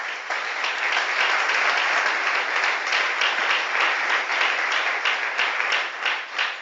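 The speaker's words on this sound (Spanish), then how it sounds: "Un aplauso para la palabra de Dios, hermano." A Pentecostal church congregation bursts into loud, sustained applause, dense clapping close and full that holds steady for several seconds with no talk over it.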